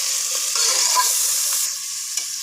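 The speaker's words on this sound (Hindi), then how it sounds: "गोश्त को हम ऑयल में अच्छी तरह मिक्स करेंगे" Marinated beef stirred into hot oil, partly mustard oil, in a pot for Bihari gosht handi: a steady, close sizzle with soft stirring scrapes running throughout, no voices.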